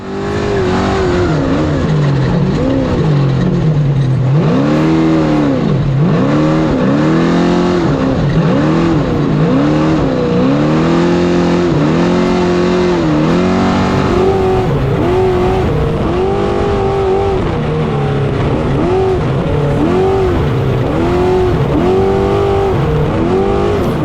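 Trophy trucks race off-road in Baja, their engines roaring loud and close, revving up and down in repeated sweeps with occasional tire noise. The sound runs continuously throughout.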